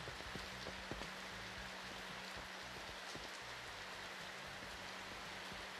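Rain in a retro tape-shop video game falls as a steady, dense hiss with faint scattered drops, quiet and unbroken throughout, no voices.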